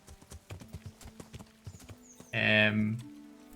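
Hooves clip-clop in quick irregular steps in the video game Kingdom Come: Deliverance, then a horse lets out a loud, brief whinny near the end.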